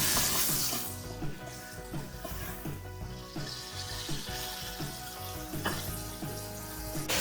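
About five sliced tomatoes fry in hot oil with a close, continuous sizzling hiss, loudest at the start and then settling into a steady crackle with small bursts, and no talking.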